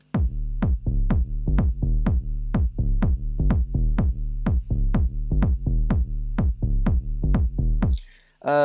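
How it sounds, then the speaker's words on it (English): 808-style bass from the FL Studio Flex plugin: a steady run of deep, booming notes with sharp attacks and short decays, loud and close, ending with a brief burst of a different tone. "And then for the bass, I used a 808 style bass,"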